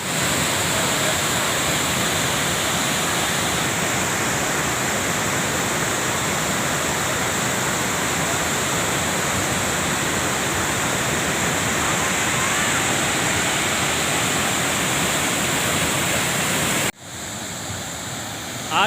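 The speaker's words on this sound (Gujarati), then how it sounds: "એ મંદિરનો જે ધોધ આવે છે એ ધોધમાંથી જે પ્રવાહ પાણીનો આવે છે" Water from the waterfall at Tapkeshwar Mahadev temple rushes into a lake in a loud, steady roar, a broad continuous wash of sound close by, dropping sharply near the end.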